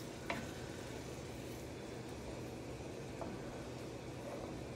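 Broth, sour cream and mustard mixture poured into a sizzling sauce in a pan for garlic pork chops, giving a steady, fairly faint frying hiss with a couple of soft stirring clinks.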